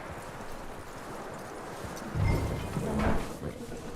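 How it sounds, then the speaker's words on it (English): Horse hooves clip-clop in the video game Red Dead Redemption 2, a steady walking rhythm that grows louder and closer toward the end over a low outdoor ambience, with no voices. "That looks like a decent horse."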